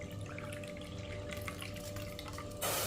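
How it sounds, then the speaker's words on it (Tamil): A cup of water poured into a bowl while making a ragi recipe with beetroot, with soft trickling and dripping, quiet and close, ending in a brief louder splash. "இப்போ இதை வந்து தண்ணி ஒரு கப்பு தண்ணி ஊற்றிக்கிடுவோம்."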